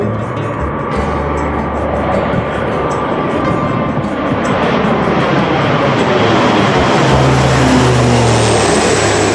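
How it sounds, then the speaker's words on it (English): An airplane flies low overhead near YVR airport, a loud, steady roar of engine noise that fills the whole stretch and swells slightly toward the end, with no talk over it. "Another one coming over us."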